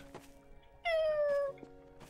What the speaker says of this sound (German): Ich habe eine Katze. Die miaut.